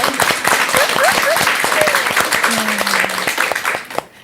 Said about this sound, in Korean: 야, 이럴 때 박수 안 나면 안 되죠?